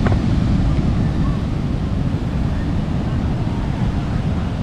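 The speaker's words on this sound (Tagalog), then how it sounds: "Tsaka yung dagat hindi pwedeng paliguan. Lakas ang alon." Strong monsoon-season surf at Dahariz Beach, a steady broadband roar of crashing waves mixed with gusting wind buffeting the microphone, continuous and loud throughout with no distinct breaks.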